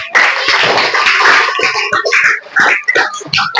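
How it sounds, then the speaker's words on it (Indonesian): Loud, close clapping from a classroom of pupils during a religious education lesson, a fast uneven burst of many hands lasting a few seconds with some children's voices mixed in. "Tepuk tangan"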